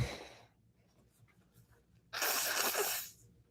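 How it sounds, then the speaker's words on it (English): A single loud nose blow, a breathy rushing burst lasting about a second after a short faint breath. "I'm just going to blow my nose a little bit."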